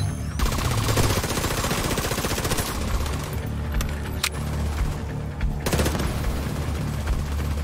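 Sustained rapid automatic gunfire from an automated turret in The Division 2, loud and continuous, with dense overlapping bursts, a brief dip in intensity midway before the firing resumes.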